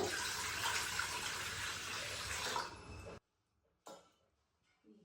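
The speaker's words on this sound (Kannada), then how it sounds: "ಉಗಿಯೊಳಗೆ ಇಡ್ಲಿ ಬೇಯೋದ್ರಿಂದ ಸ್ವಲ್ಪ ತಳದಲ್ಲಿ ನೀರು ಹಾಕಬೇಕು." Water gushes steadily into the base of an idli steamer pot for a few seconds, then cuts off, followed by a brief splash and quiet.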